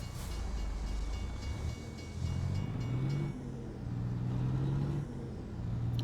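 A freight train rolls past a truck, a steady low rumble of railcars grinding along the tracks up close, with engine hum underneath and a faint brake hiss, no talking.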